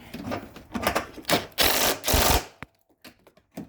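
A ratchet tightens a bolt on a 2012 Acura MDX coilover in close, loud rapid clicking bursts, with a longer run of fast clicks in the middle and a few single clicks at the end.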